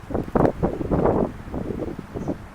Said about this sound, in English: The wind is really crazy today.